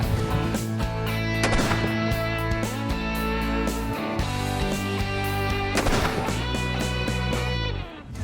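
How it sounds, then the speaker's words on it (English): Repeated gunfire from a gun store robbery training scenario, loud sharp reports over a sustained droning musical bed, with no clear talk. "I actually had to shoot him because his behavior didn't change"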